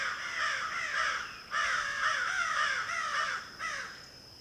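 Crows give warning caws near a countryside chicken coop. Three hoarse, fairly close calls come in a row, each drawn out and repeated, over quiet morning background.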